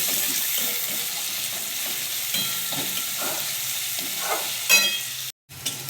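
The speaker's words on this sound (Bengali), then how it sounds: "এবার আমি কেটে রাখা পেঁয়াজটা দেবো। পেঁয়াজটাকেও আমি ছোট করে কেটে নিয়েছি। পেঁয়াজটাকে হালকা লাল করব।" Chopped onion frying in hot oil in a home kitchen pan, a steady close sizzle with occasional stirring scrapes, briefly cut to near silence before resuming.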